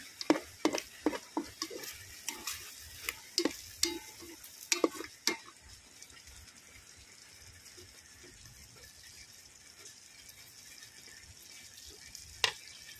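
Sardines with salt and pepper sizzle in a pan while a utensil stirs them, giving a burst of close scraping clacks over the first six seconds. A steady faint fry follows, then one last sharp scrape near the end.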